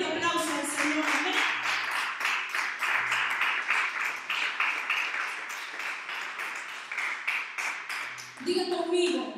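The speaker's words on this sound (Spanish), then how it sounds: "Den un fuerte aplauso al Señor" Church congregation applauding the Lord during a service, a sustained burst of dense clapping lasting several seconds, fairly close, with a voice briefly heard at the start and end.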